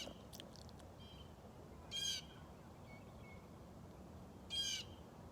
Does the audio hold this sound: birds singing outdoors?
yes